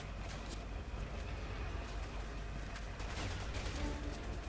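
Sustained gunfire in Resident Evil 6 from a battlefield with mounted turrets, dense rattling shots layered over a constant rumbling din, with no voices.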